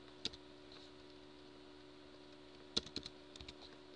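Sparse keystrokes on a computer keyboard as a QJ part number is entered, a single tap followed by a short cluster of quick clicks, faint and close with no voices.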